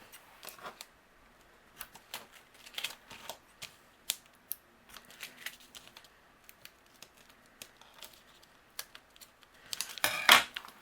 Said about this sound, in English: Now these corners, you can just trim away with your scissors.